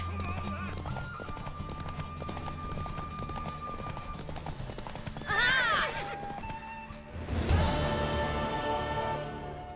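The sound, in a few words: horse galloping and neighing in video game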